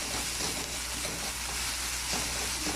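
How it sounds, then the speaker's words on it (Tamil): Tomatoes with salt sauté in a pan for a spinach keerai kootu, a steady close sizzle and frying crackle with light stirring throughout, no talk. "நல்லா வதக்கி விடுங்க எல்லாத்தையும்."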